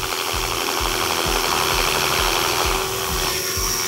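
A JR Forza 450 RC helicopter's nitro engine runs close and loud, its rotor chop pulsing steadily as the throttle comes up.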